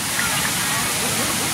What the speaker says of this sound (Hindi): और ये सुंदर सा झरना